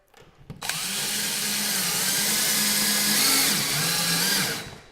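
A click, then a power drill whirs steadily for about four seconds driving a lag bolt into a wall, its pitch dipping slightly under load, close and loud.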